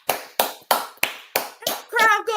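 Hand clapping standing in for a cheering crowd: six evenly spaced, close, sharp claps, followed by a brief voiced sound at the end.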